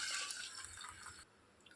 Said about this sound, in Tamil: இப்போ கரைச்சி வச்ச புளி கரைசலை ஊற்றிக்கலாம்